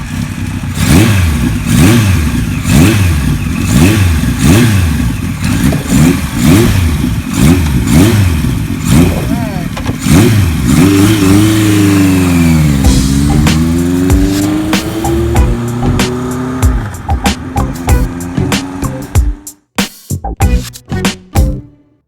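A 1976 Kawasaki KZ900A motorcycle on a test ride gives a loud, close rhythmic engine drone, then revs up and swoops through a gear change before fading into sputtering bursts.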